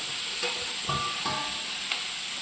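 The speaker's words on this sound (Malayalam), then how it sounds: "ഇത് നമുക്കിതുപോലൊന്ന് വാട്ടിയെടുക്കണം" Chopped capsicum and onion, cut in large pieces, sizzle steadily in a hot pan while being stirred, with a few louder bursts of frying and scraping over a constant hiss, close and moderately loud.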